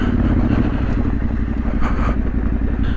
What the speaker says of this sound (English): So I'll just get the bike through and see if we can get some footage.